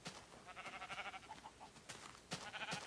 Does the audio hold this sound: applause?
no